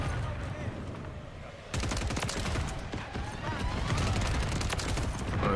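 Rapid gunfire from Call of Duty Modern Warfare 3 with the SUPERI 46, dense bursts of shots that jump louder partway through and carry on steadily under a faint voice.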